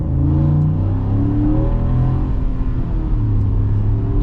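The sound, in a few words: Ford F-150 Lobo V8 engine accelerating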